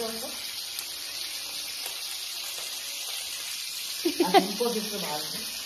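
Fish fries in a pan with a steady, moderate sizzle. A voice speaks briefly near the end over the frying.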